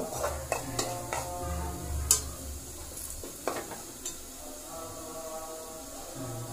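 A spoon scrapes and clinks as chicken curry with turmeric is stirred in a sizzling pan, several distinct taps over a steady low frying hiss, without speech.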